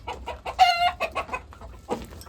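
Country chickens in a poultry breeding setup give a few short, close clucks and one louder drawn-out squawk, with no talking.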